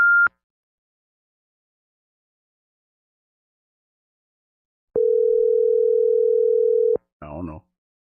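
A Google Voice phone call gives a short high beep, then after a pause a steady two-second electronic ringing tone, followed by a brief muffled burst.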